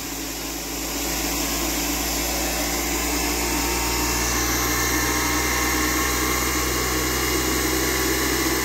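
A Tesla turbine running at about 3,000 RPM under load gives a loud, steady, high whirring drone with a low hum beneath it, continuous and close throughout with no talk.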